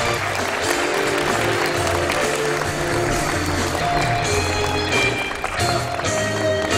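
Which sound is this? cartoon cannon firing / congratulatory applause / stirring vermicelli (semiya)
congratulatory applause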